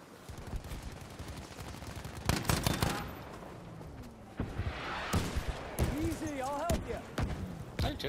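Artillery barrage in a Battlefield video game, heard as several heavy broadband blasts at irregular intervals amid gunfire and rumbling battle noise, with voices talking over the top.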